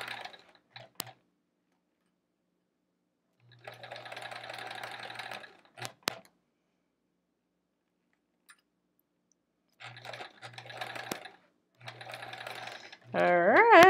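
A home sewing machine stitches a quilt row, its dull needle starting to chew the fabric; quiet whirring runs in several separate bursts with silent pauses between, and a voice briefly speaks at the end.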